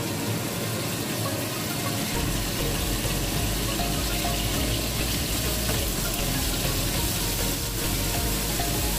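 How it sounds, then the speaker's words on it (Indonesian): Beef frying in hot oil in a pan, a steady dense sizzle that holds loud and unbroken throughout with no talking. "kemudian kita masak dagingnya ya"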